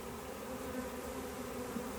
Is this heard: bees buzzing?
yes